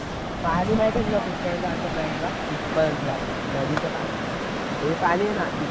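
A river swollen after rain in a Konkan village rushes with a steady broadband hiss, while people talk over it intermittently.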